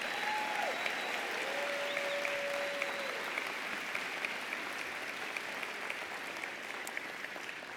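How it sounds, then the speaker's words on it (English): Sustained applause rises for a graduating class at a college commencement ceremony, an even, continuous roar of many hands clapping in a large hall, with a faint whistle-like tone early on. "Another round of applause for our graduating class."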